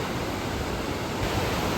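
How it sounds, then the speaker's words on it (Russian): A powerful waterfall in a forested Norwegian landscape, a steady dense broadband roar of rushing water, loud and unbroken, with no voices over it. "водопад."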